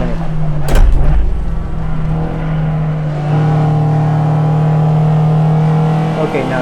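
A Spec Miata race car engine holds a steady, droning full-throttle note in a VR racing game at Harris Hill, loud and continuous, with a voice talking over it.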